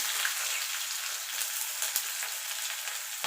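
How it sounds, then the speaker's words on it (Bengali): Onion fries in a little too much oil with green and dried red chillies for a Bengali-style radish greens dish, giving a continuous, even hiss of sizzling close by with one faint knock. "পেঁয়াজটাকে একটু ভাজা ভাজা করে নেব"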